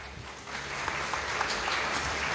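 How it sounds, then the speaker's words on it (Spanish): A church congregation applauds during a sermon, a steady wash of clapping that swells gradually and continues to the end. "Un aplauso para ustedes."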